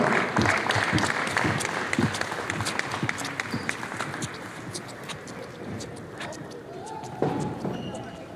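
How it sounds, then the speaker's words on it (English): Crowd clapping during a high school varsity boys basketball senior night in a gym, with dense applause plus sharp individual claps, ball-like thumps and voices mixed in, tapering somewhat toward the end. "Yeah, clap it up, man."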